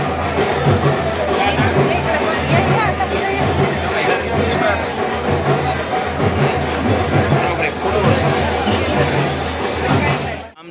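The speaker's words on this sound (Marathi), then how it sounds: "आज रविवार असल्यामुळे एवढी गर्दी आहे" A crowd of devotees at Jyotiba temple on a Sunday, heard as a dense, steady babble of many voices with occasional louder calls and clatter throughout.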